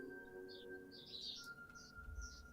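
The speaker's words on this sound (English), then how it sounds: "Can you hear the birds cheeping?" Small birds cheep outdoors in several short, faint chirps scattered over a steady background hum, some distance away.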